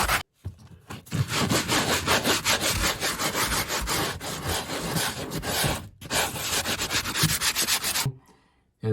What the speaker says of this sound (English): I'm going to sand this area with my sanding stone